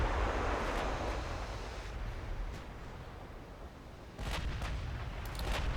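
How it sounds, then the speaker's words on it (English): Warship guns firing in the naval video game Ultimate Admiral Dreadnoughts make a faint, muffled, continuous rumble of distant booms with a slightly stronger surge near the end, and no talking. "Try and get all the guns firing on the battleship."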